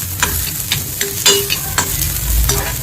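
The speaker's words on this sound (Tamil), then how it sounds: "வெங்காயம் நல்லா ஃப்ரை ஆகிடுச்சு." Onion, ginger and garlic fry in a pan with a bright, continuous sizzle, broken by repeated scraping stirs of a spoon at an uneven rhythm, close up and without any voices.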